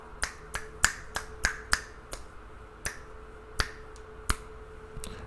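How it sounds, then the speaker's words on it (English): A single person snaps their fingers about a dozen times in an irregular rhythm, each snap crisp, close and distinct against a quiet room. "Team Finger Snaps"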